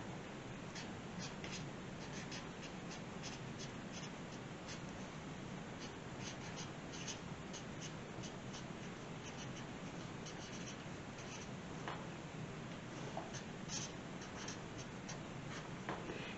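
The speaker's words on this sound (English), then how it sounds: "And then you're going to write Happy Mother's Day." A pen writes Happy Mother's Day on a paper craft, producing a continuous faint scratching with light strokes throughout, close up under a steady background hiss, with no voices.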